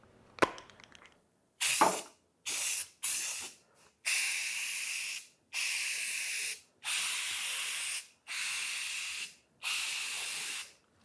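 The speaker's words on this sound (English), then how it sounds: "For this, I'm going to use a rattle can because it's easiest." Zinsser Bullseye 123 primer sprayed from a rattle can, a few sharp clicks and rattles, then a series of about eight close, loud hissing bursts, each one to two seconds long and separated by short pauses.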